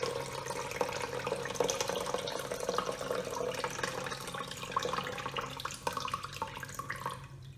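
Water splashes and trickles steadily as poha (flattened rice) is washed by hand and drained, a continuous near wet sloshing with no voices.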